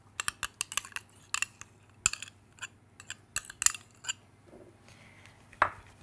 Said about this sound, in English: we'll give them a whisk